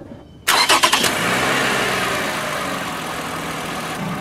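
A car engine cranks briefly with a few rapid pulses, then catches and settles into a steady, loud idle during a battery cranking test.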